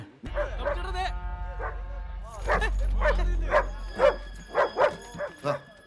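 A Belgian Malinois in a Malayalam film barks in a quick run of sharp, loud yips and bow-wows, close by, with a low rumble of film sound beneath.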